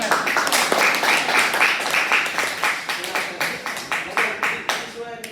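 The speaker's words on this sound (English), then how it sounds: "Give it a clap to Ashman." A classroom of students claps for a classmate after a presentation, a burst of many hands that is brisk at first and then thins into scattered, fading claps near the end.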